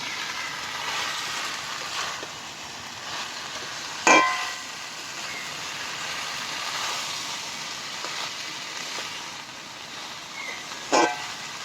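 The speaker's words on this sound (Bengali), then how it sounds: "ঢেঁড়স মশলা আলু একসাথে কষে নিয়েছি" Okra, potato and spices stir-frying in a pan, giving a steady close sizzle with a couple of sharp scraping stirs of the spatula.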